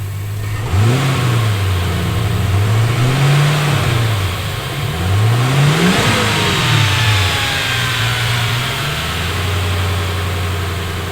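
A 5.4-litre V8 in a BA Ford Fairmont Ghia with a gas-injected system revs up in several loud, close rising and falling blips, then drops back to a steady deep idle near the end.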